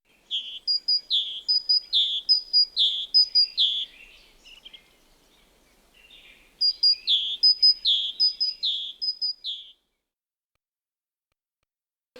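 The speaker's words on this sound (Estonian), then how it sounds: "Ööbik, ööbik." A bird song plays as part of a children's animated bird cartoon, two bursts of rapid, repeated high chirps, clear and close, with a short quiet gap between them.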